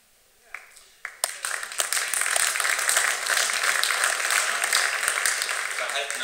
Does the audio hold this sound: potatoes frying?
no